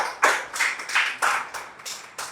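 A church congregation claps for a longtime member during a service, with a few broad bursts of clapping spaced about half a second apart, moderately loud and close, with no talking over it.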